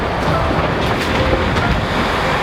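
A train at a station platform gives off a steady rumbling roar with faint rail clatter, close and continuous, with no voices.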